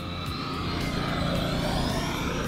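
An E-Flite Viper 90mm electric RC jet makes a low, slow pass, its ducted fan giving a steady, loud whine and rushing roar throughout with no break.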